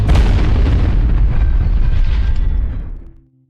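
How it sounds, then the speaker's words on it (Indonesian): A grenade blast in a Korean war film, a loud deep boom with a dense low rumble that holds for about three seconds before fading quickly to quiet. "Byun berhasil melepaskan granat di jaketnya, Sersan Jang mengambil granat tersebut dan membuangnya keluar"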